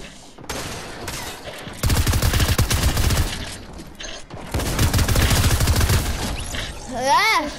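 Bursts of rapid SMG fire in a video game, two long sustained volleys with short gaps between them, loud and close, with a voice speaking briefly in between.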